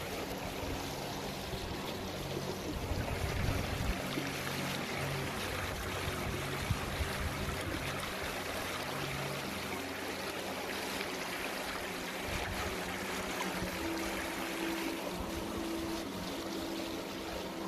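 A countryside brook in July flows steadily, a continuous close rush and burble of water with no voices, holding an even level throughout.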